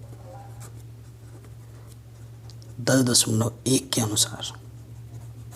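Pen or chalk scratches across a board during a Class 10 math lesson, a quiet, brief cluster of strokes in the middle, with a teacher talking around it over a steady low hum.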